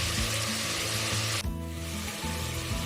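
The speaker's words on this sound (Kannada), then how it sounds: "ಈಗ ಇದಕ್ಕೆ ಉಪ್ಪನ್ನ ಸೇರಿಸಿ 5 ನಿಮಿಷ ಫ್ರೈ ಆಗೋಕ್ಕೆ ಬಿಡಿ." Onions and tomato with salt fry in a pan with a steady close sizzle, and a loud hissing layer that cuts off abruptly midway, while a utensil scrapes and stirs in a repeating rhythm.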